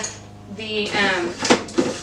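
Dehydrated beef liver pieces snap as they are broken by hand, giving a few sharp crisp cracks close up in a quiet kitchen.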